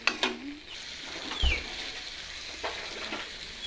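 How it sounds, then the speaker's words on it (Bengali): Cumin and coriander powder frying in a pan, a steady soft sizzle at close range with intermittent scraping and clinking from a spoon stirring the spices. "তারপর এইগুলিকে একটু ভালো করে নাড়াচাড়া দিয়ে ভেজে নিলাম।"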